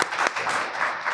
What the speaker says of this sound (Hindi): तालियां बजाइए पहले